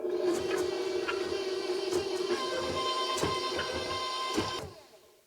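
An electric mixer blends lemon lime cookie ingredients in a bowl, a steady whirring motor hum with faint rattling clicks, running several seconds before winding down and stopping.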